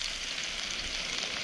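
Rump steaks frying in a pan at a night-time wild camp in the Lake District, a dense, even sizzle and crackle heard close up and continuing without pause.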